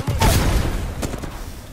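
A frag grenade blast in Apex Legends, a close, loud broadband burst with a low rumbling tail, followed by a second sharp report about a second later amid game noise.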